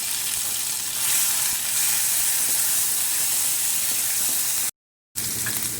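Spices hit hot oil in a kadai, with cumin already frying, for a drumstick curry: a loud, steady sizzle and hiss runs close up for about five seconds, cuts out briefly, then resumes.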